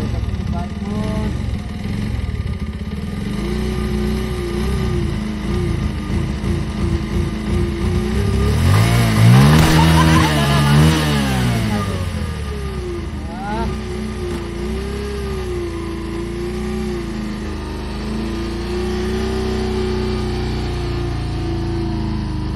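A motorcycle engine idles with a steady low hum, then revs sharply up and down midway before settling back to a rumbling idle, with people talking faintly throughout.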